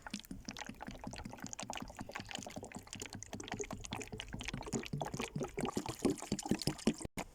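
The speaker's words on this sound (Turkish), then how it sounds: "Bunun içine su koyuyorum. Ve doldu. Hadi gidelim." Water poured from a bottle into a container, a continuous liquid splashing and trickling that runs steadily throughout, fairly close, with no talking.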